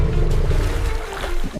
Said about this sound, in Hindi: लहरें जोर से टकरा रही हैं